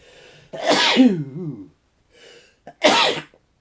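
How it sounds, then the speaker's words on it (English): Two loud, close sneezes, the first with a drawn-out wavering tail, the second sharp and short after a brief pause and a small breath. "I will probably get a sneeze."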